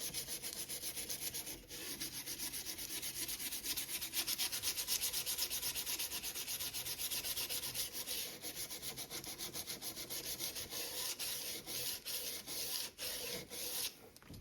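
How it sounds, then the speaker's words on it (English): Sandpaper rubs along dampened American Flyer S gauge model train track rail, a steady close scratchy scrubbing with quick back-and-forth strokes growing choppier near the end. "Then take your sandpaper and just polish away."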